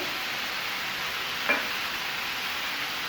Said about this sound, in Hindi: अब इन तमाम मसालों को अच्छी तरह से मिक्स कर लेंगे